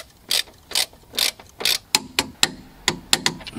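Ratchet wrench tightening the shock absorber bolts on a VW T4 van, about a dozen crisp rhythmic clicking strokes in close succession, near and clear with no talk.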